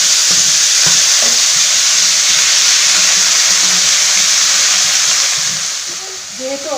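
Leafy greens with salt and turmeric sizzle and hiss loudly in a hot pan while being stirred, with scraping stirs through the steady frying that fades near the end.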